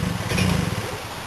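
A motorcycle engine revs in a short, loud, close burst of rough clattering exhaust that fades slightly toward the end.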